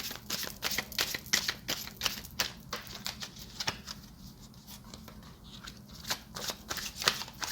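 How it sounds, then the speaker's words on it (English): Quick bursts of tarot cards being shuffled, riffling in irregular clusters with brief pauses, close and crisp, no talking. "That was just a bad shuffle."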